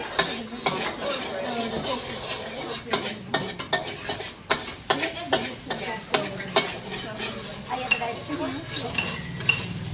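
Garlic fries in a pan at a Thai cooking school in Chiang Mai, with a soft sizzle under frequent sharp clinks and scrapes of a utensil stirring against the pan.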